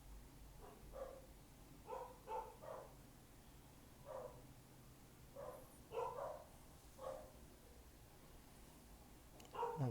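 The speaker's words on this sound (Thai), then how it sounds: "ขออภัยเสียง สุนัขด้วยนะครับ" A dog barks repeatedly at a moderate distance, short sharp barks in loose clusters with pauses between, over a quiet background.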